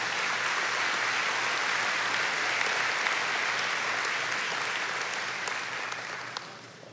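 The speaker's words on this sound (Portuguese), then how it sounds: "Você pode aplaudir ao Senhor Jesus." A congregation applauds, a dense, sustained wash of clapping that holds steady and then gradually fades out.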